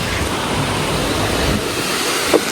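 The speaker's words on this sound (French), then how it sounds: "Hop, petite cascade d'eau." A small mountain waterfall makes a steady, broad rush of splashing water that stays constant throughout, close and fairly loud.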